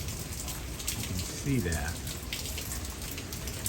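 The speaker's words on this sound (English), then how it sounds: "So the rain is coming down, and there's this bird in its nest." Steady rain falls in a continuous soft patter of drops on surfaces, with someone talking over it.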